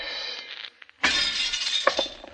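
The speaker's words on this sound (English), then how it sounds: "You make a habit of smashing people's windows" A rock smashes through a window at night, a sudden loud crash of shattering glass followed by scattered tinkling fragments, after a brief quiet pause.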